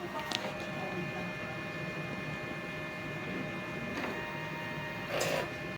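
A DTF printer runs a print head cleaning cycle, giving a steady mechanical hum with a few brief clicks and a short louder whir near the end, close and constant.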